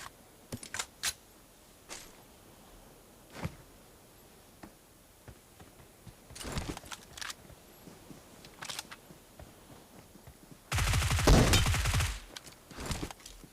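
Gunfire in the mobile game PUBG Mobile: scattered faint single shots and clicks, then a louder sustained burst near the end, with no talking.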